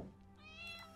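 A cat meows in a video game, a single faint, drawn-out mew that rises in pitch and carries over a soft background hum.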